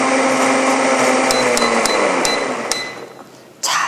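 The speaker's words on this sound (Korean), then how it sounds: "믹서기는 너무 오래 돌리는 것보다는 30초 전후로 돌려주시는 게 좋아요" A kitchen blender whirs loudly and steadily as it purées pineapple, the motor winding down toward the end with a few sharp knocks and clicks before a final jolt.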